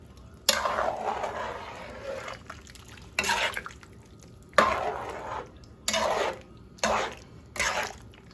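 A spoon works through meat filling with tomato sauce and water in a pot for pasteles, giving repeated wet scraping and sloshing strokes in separate bursts, close and fairly loud, with quiet pauses between them.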